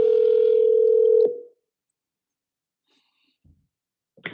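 A telephone gives a single steady electronic tone lasting about a second while a number is dialed, then cuts off into near silence broken by a couple of faint soft clicks.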